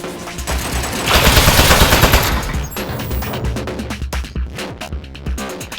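An automated turret in the video game Aperture Desk Job opens fire in a dense, rapid burst of machine-gun shots that swells loud, then breaks into scattered sharp pops and clicks, with game music underneath.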